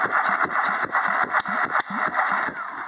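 A 1997 Volkswagen Polo 1.6 AFT engine cranks over on the starter during a compression test, giving a steady rhythmic churning with evenly spaced compression pulses about five or six per second, close and moderately loud.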